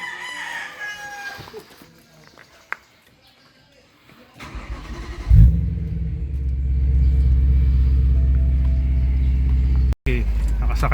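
A BMW M3 engine cranks and catches, then settles into a loud, low, steady idle rumble after quieter moments with a rooster crowing and people talking nearby.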